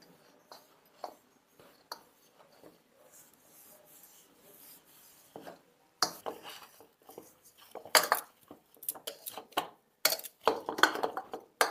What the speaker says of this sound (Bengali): এবার আমি সুন্দর করে এটাকে মেখে নেব